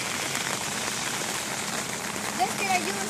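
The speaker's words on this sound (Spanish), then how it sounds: "¿Ves que la lluvia está un poco fuerte?" Heavy rain falling outdoors on a day when schools are nearly shut, a dense steady hiss of drops on surfaces, continuous and close, with faint incidental sounds near the end.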